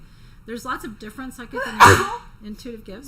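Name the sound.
sneeze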